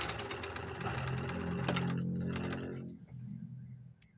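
A Panavox 482DF overlock sewing machine running with a fast, even mechanical whir and ticking, close and steady, then slowing and winding down near the end.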